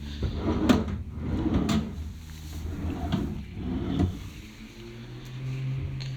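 Empty drawers being slid open and shut, several hollow knocks and scrapes in quick succession, with a low engine-like hum running steadily underneath.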